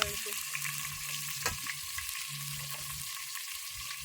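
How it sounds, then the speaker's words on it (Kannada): Ginger garlic paste frying in hot oil for mutton curry, a close, constant sizzle with scraping stirs and a few clanks of a spoon against the pan, with no voices. "ಶುಂಠಿ ಬೆಳ್ಳುಳ್ಳಿ ಪೇಸ್ಟ್ ಹಾಕೋತೀನಿ ರೀ ಎಣ್ಣೆ ಬಿಸಿ ಆದ್ಮೇಲೆ"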